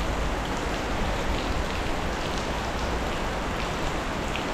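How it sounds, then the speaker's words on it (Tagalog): Steady rain falling at a fishing spot beneath a bridge, a dense, even hiss of drops on surfaces that stays constant and fairly loud throughout with no voices. "medyo maulan po ngayon"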